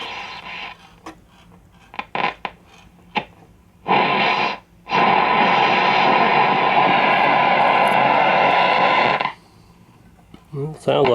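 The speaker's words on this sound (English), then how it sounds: "It sounds like shortwave working too." Radio static and hissy daytime shortwave reception on a 1967 Zenith Royal 3000 Trans-Oceanic radio, broken bursts then a long continuous band of noise, with a voice heard faintly around it.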